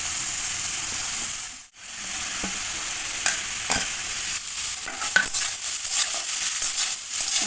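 Beetroot, carrot and cauliflower frying in a pan, giving a continuous close sizzle with a brief dip near the start, then repeated spatula scrapes and taps as the vegetables are stirred.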